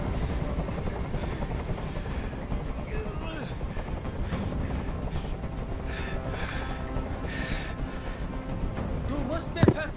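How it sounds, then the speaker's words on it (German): A helicopter's rotor chop drones steadily throughout in the video game Detroit: Become Human, with bursts of gunfire and scattered game sound effects over it, ending in a sharp bang. "Ich halte diesen Krach nicht mehr aus. Dieser Helikopter soll verschwinden."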